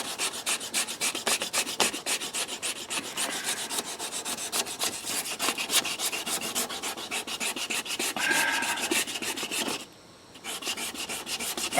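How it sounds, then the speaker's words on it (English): Power sander grinding steadily over a rusted Astro van dogleg wheel arch during repair, a continuous close rasping scrape with a brief drop in level near the end. "I'm gonna power sand a little more"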